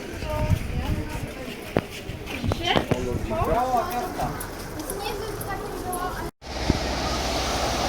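A crowded summer beach at Chłopy near Mielno on the Polish coast, with a steady wash of surf and wind under close conversation and background crowd chatter, broken by a brief dropout near the end.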